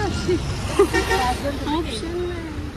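Busy road traffic with vehicles honking, short horn toots popping up over a steady roadway rumble and nearby voices talking.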